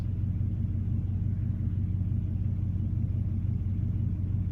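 A Cummins diesel engine, a 12-valve or 24-valve that has sat unused for months without a block heater, idles steadily with a deep, continuous rumble that holds constant and close throughout.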